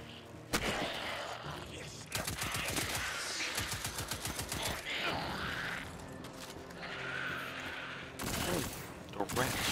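Rapid automatic weapon fire in Destiny 2 with heavy recoil, coming in dense rattling bursts that stop and start, loud and close, with a voice speaking over parts of it.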